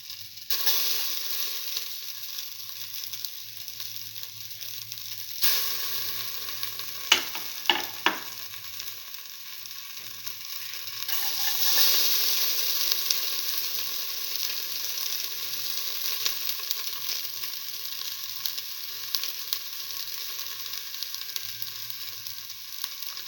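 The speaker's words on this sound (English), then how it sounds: "Put in the finely chopped ginger," Finely chopped ginger sizzles in a hot pan with a steady, quiet hiss, broken by a few brief scraping stir clicks and a louder surge of frying partway through.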